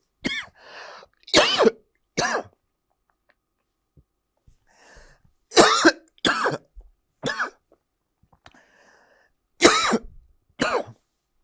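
Several sharp, loud coughs come in bursts with pauses between, some single and some doubled, along with a throat-clearing sound and quiet breathing.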